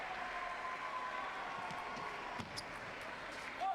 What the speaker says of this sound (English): the Brazilian gets the cheers of this Rio Centro crowd